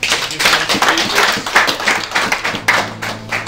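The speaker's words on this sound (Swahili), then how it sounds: "Basi tumpigie Yesu makofi" Congregation clapping in praise at a celebration-of-life church gathering, rhythmic hand claps in a lively beat from a group, fairly close and steady throughout.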